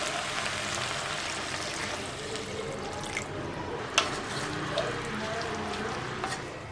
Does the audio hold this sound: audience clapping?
no